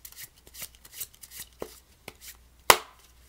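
Deck of playing cards being shuffled by hand, a series of soft quick riffles and taps at an irregular rhythm, ending with one sharp louder snap, close and quiet.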